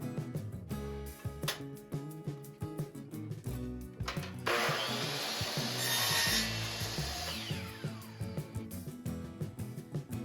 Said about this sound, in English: make the second miter cut